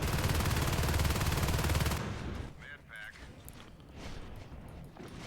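Shotgun gunfire from the video game Natural Selection 2, with a dense, loud burst of shots through the first two seconds before dropping to quieter game ambience.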